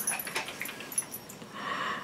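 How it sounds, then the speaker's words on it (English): An excited dog whimpers and whines in short, faint, high yelps, with a jingling rattle like tags or keys in a quiet room. "something got the dog excited"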